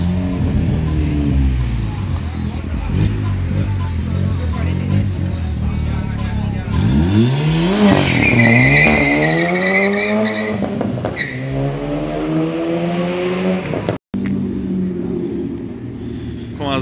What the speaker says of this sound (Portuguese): Olha a galera dos golfes aí.